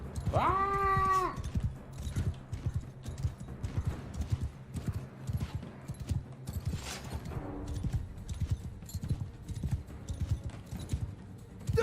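Horse hooves clip-clop in a steady, continuous patter from mounted cavalry in the Mount and Blade II: Bannerlord battlefield, with a brief high whinny or cry at the start and another faint call later.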